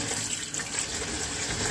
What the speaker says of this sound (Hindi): अब इसमें हम ठंडा पानी डालेंगे ताकि मैक्रोनी हमारी चुपके नहीं